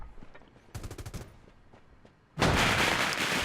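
Gunfire and a grenade blast in a battle royale esports match: a quick burst of rapid shots, then a loud, sustained explosion roar that fills the end of the moment.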